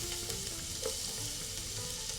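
Two crushed garlic cloves fry in a thin film of oil at the bottom of a pan, giving a steady, close sizzle with light crackles throughout and no voices.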